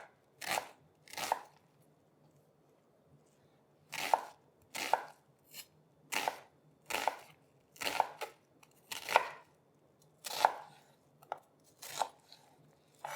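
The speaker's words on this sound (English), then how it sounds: "So cut it in half and then thinly slice each half." A knife cuts an onion in half and then slices it thinly on a board, a series of crisp, close crunching strokes in separate bursts with short pauses between them.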